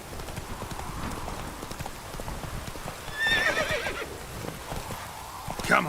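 Roach, a horse in The Witcher 3 game world, clip-clops steadily at close range with a bright neigh or whinny around the middle and ambient background throughout.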